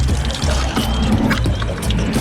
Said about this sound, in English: there shouldn't have been water in there, and I'm covered in it now, and it was really stagnant, horrible water, but that was the intercooler pipe